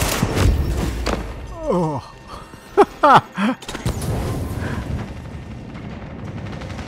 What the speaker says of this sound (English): there's explosions going on